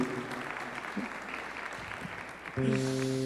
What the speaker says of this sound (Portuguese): eu queria pedir aqui uma salva de palmas para o meu amigo Pedro Solteiro